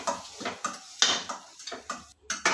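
A spoon stirs and clinks against a bowl while crushed cardamom and fresh milk cream are mixed for rava modak, giving light, irregular scraping and tapping knocks at close range with no talk.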